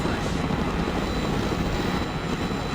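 Military helicopters, among them Black Hawks, Silent Hawks, a Chinook and Little Birds, fly in the war game Broken Arrow, a steady dense rotor and engine roar filling the whole stretch without pause.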